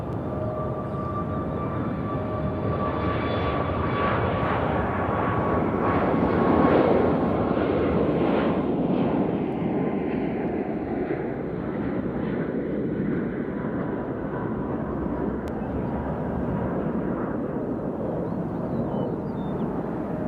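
A Southwest jet departing Nashville International Airport for Kansas City gives a long, steady roar with a slight swell midway, gradually fading as it climbs out, with no talk.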